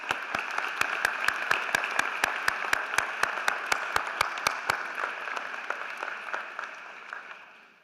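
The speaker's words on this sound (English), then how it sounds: "Please join me in a round of applause." An audience at a 2018 Collegiate Academy graduation ceremony applauds with a dense, steady patter and a few sharp, evenly spaced claps standing out, then fades out toward the end.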